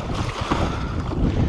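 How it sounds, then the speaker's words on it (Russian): Sea waves and wind wash around a Hobie pedal fishing kayak out trolling on open water, a steady broadband surge with low rumbling swells and wind buffeting the microphone, no voices. "Волны такие еще более-менее терпимые."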